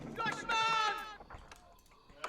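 A sheep in the video game Age of Empires IV gives a single wavering bleat, close and clear, followed by quieter game clicks and a faint voice speaking.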